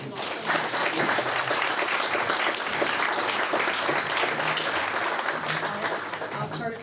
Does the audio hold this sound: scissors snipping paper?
no